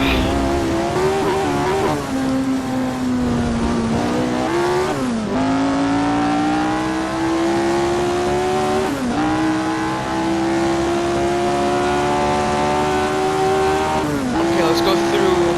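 Jim Clark's 1960s Formula 1 car in Assetto Corsa on the '66 Monza oval, its engine droning loud and steady with rising and falling pitch through gear changes, tires squealing as it slides, and a voice talking over it.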